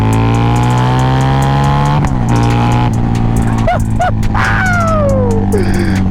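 A Harley-Davidson V-Rod Muscle motorcycle engine roars loudly and close, holding a steady drone before revving up through several rising pitch sweeps as it accelerates.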